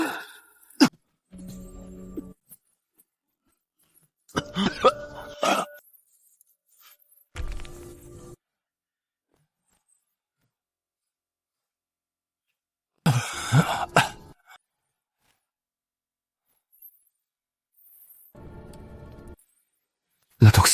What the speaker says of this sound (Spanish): ya no paro de toser sangre